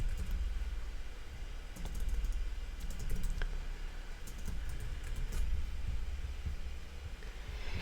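Keys clatter in uneven bursts as someone types short text on a computer keyboard, light clicks running close over a steady low background rumble, with no voices.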